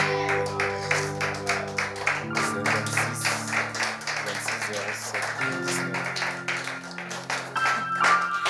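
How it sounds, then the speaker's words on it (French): A church congregation keeps applauding after a sermon, steady clapping running throughout beneath sustained musical tones and occasional voices. "Est-ce qu'on peut continuer d'applaudir pour ce puissant message?"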